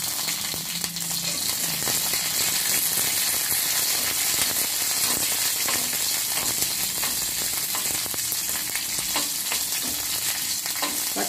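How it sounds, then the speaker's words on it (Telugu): Green chillies and curry leaves fry in hot oil for a tangy gherkin-and-yogurt chutney, giving a steady, dense crackling sizzle close up with scattered sharper pops and no voices. "పచ్చిమిరపకాయలు కొద్దిగా వేగిన తర్వాత"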